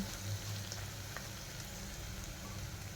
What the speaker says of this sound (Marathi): आता यामध्ये मी हिरवी मिरची टाकून घेत आहे